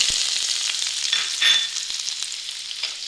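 Chopped onion hits two spoons of hot oil in a pan and sizzles, a steady bright crackling hiss close by, briefly louder midway with a few faint stirring taps.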